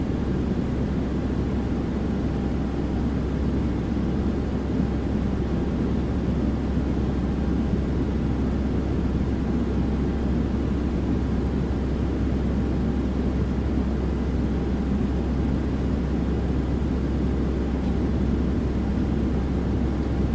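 A Boeing 737-800 flying in the X-Plane flight simulator gives a steady, dense engine and airflow drone that holds at an even level throughout, with no talking.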